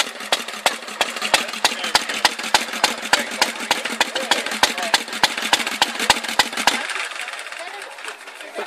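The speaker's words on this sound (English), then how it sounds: "We've got a motorbike here." A small vintage motorbike engine runs at a vintage car rally with a steady, rapid ticking rhythm close by, then cuts out abruptly near the end, leaving quiet background.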